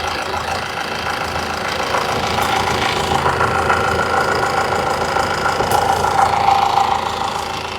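A Honda Amaze car engine runs close by and is revved, a steady mid-pitched mechanical hum that rises slightly in the middle and holds with a faint knocking rattle.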